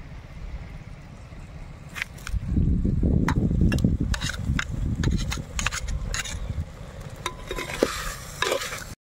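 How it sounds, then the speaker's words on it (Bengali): Mutton sizzling in a pan with ginger garlic paste, stirred briskly with repeated loud scrapes and clatters over a continuous frying hiss, outdoors in an open field. "মটনটা সুন্দর কষিয়ে নিয়েছি, এখন দেবো আদা রসুন বাটা।"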